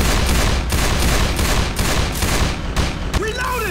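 Rapid bursts of gunfire from a revolver in the zombie shooter Left 4 Dead 2, loud and close, with repeated sharp shots and a whooshing effect near the end.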